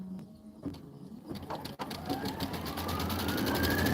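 Sewing machine stitching a Kimberbell Let It Snow quilted pillow, a rapid mechanical needle rattle that speeds up and settles into a steady fast run, close and clear, with no voices.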